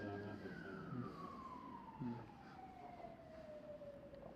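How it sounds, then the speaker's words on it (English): A faint, distant siren with one long tone sliding steadily downward in pitch over a low rumble of background noise. "The sirens are on."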